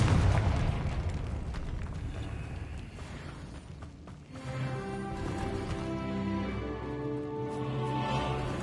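A Confringo spell explosion in a fantasy video game, a deep rumbling blast that fades and then swells into a sustained roar mixed with a tonal, humming background layer, moderately loud and steady.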